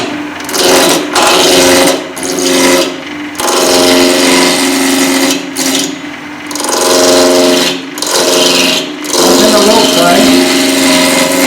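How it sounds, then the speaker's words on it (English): A roughing gouge cuts a spinning wood blank on a lathe, giving a loud, rasping whir broken into repeated passes by short gaps, with the motor hum running underneath throughout. "I'm just going to use a roughing gouge"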